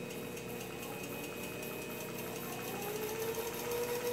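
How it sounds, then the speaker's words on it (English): A Sherline 5410 mini milling mill's spindle runs on its own, giving a quiet steady mechanical whine and hum that holds even and rises slightly near the end, with no speech. "The little spindle here turns."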